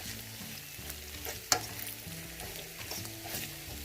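Pork chops frying in a pan, a constant close sizzle with a sharp scrape of a utensil across the pan midway and faint scraping after.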